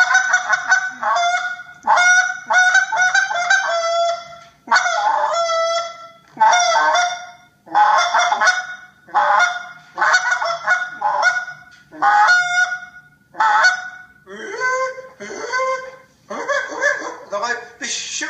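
Someone blows a Cree Crusher goose call to imitate geese, producing loud, close honks and clucks in rapid bursts and rhythmic runs with brief pauses between sequences, continuing throughout.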